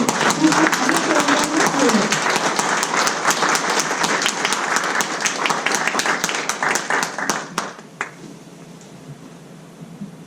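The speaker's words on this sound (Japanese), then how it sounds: "拍手でお迎えくださいませ" Audience applause welcoming a speaker to the stage at a Japanese-hosted investment promotion event for Sri Lanka, a loud, dense clatter of many hands sustained for about seven seconds, then thinning to scattered claps and a quiet room.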